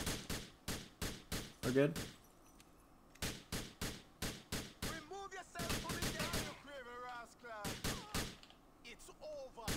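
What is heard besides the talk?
gunfire in GTA 4 video game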